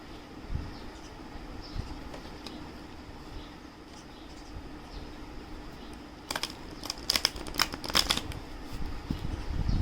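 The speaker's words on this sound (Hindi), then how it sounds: "oh no, it's still straight, so let me shuffle it." Tarot cards being shuffled by hand, a soft papery riffle under a low steady background hum, growing into sharper, louder flicks and slaps of cards toward the end.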